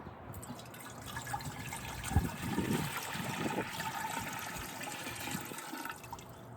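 Water poured into a jar in a steady, gushing stream, close and fairly loud for several seconds, with no talking.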